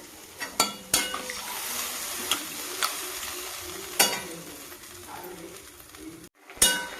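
Potatoes, bori lentil dumplings and tangra fish cook in hot water in a pot for a thin curry, a soft bubbling hiss broken by several sharp clinks and knocks of a utensil against the pot, close by.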